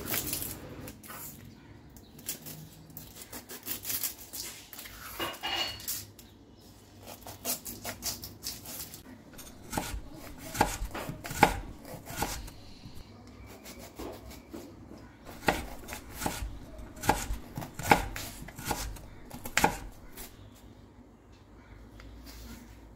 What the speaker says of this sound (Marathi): भुर्जीला मी एक कांदा चिरून घेणार आहे बारीक